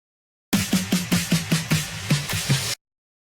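A drum fill from a sample library plays alone: about ten rapid punchy tom and snare hits in an even rolling rhythm, loud and dry, ending abruptly after two seconds.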